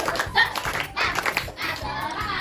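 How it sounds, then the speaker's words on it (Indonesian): Elementary schoolchildren perform a rhythmic spirit clap in class, crisp patterned bursts of claps and taps in quick groups, with children's voices chanting along. "Tepuk semangat."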